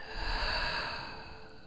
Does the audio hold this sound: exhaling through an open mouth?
yes